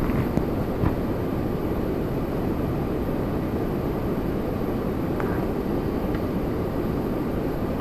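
Korean Air flight 078 airliner taking off from runway 33 left at Toronto Pearson, a steady broad engine roar holding at one level throughout, heard from a distance with no voices.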